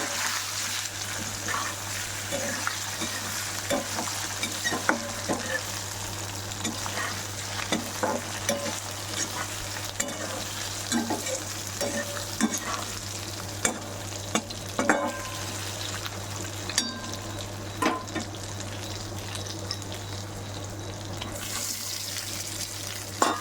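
Rotla pieces frying with pickle masala in a tempering of asafoetida and curry leaves give a steady close sizzle throughout, with scattered stirring scrapes and clicks, and no voices.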